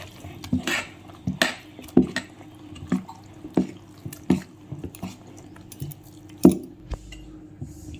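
A spoon mixes semolina batter in a bowl, clinking against the sides in a roughly regular rhythm of sharp, close taps with wet, sloppy stirring between them.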